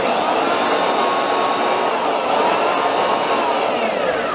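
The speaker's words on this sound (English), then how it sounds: "when working with a belt sander" A belt sander grinds popcorn texture off a wall with a steady, loud whine and hiss that runs without a break, close to the listener, with no talking.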